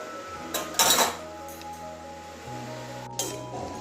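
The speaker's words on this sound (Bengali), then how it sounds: "এবারে ঢাকা দিয়ে রেখে দেবো তিন চার মিনিটের জন্য ঢাকা দিয়ে রাখবো" A metal lid set onto a cooking pot of cabbage and potato on the stove, giving a couple of close, bright clinks and a brief rattle, followed by a low steady hum from the burner.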